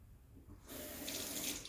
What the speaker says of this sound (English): purge the wand, just to clean it on the inside